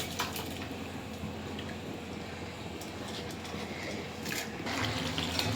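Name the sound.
rice being poured into water for cooking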